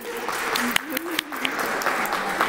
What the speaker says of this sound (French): applaudissez Étienne.